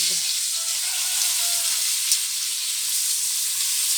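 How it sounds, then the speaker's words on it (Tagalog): Loud, steady sizzling of dried fish frying in hot oil, a continuous crackling hiss with small pops throughout. "Nagprito na ko buad."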